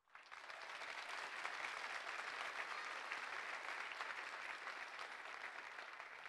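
Sustained applause from the audience at a Class of 2021 graduation ceremony at Bellevue, steady and dense across the whole stretch, with no voices on top.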